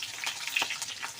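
Dry red chillies and a bay leaf spitting in hot oil in a pan, giving a soft, steady crackle with a few sharper pops, close by and fairly quiet.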